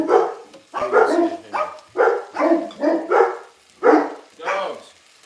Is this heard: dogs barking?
yes